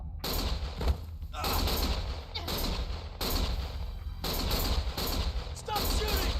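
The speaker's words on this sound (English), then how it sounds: "Stop shooting!" Gunfire rings out in the video game Lost Judgment, loud sustained bursts of shots in several waves, with short gaps between volleys and game voices shouting over the barrage.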